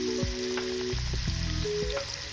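Shrimp stir-frying in a hot pan, a steady close sizzle with occasional scrapes of a utensil stirring, no voices.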